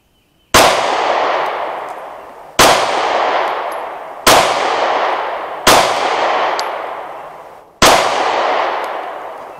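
Five sharp pistol shots from a compact PPS handgun with a 3.2-inch barrel and 7-round magazine, fired at steady intervals of roughly two seconds, each loud crack followed by a long ringing decay.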